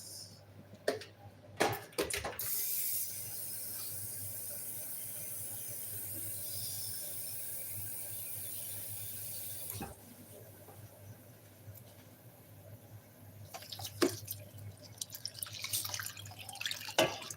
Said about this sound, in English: So I'll be adding some water to parboil the rice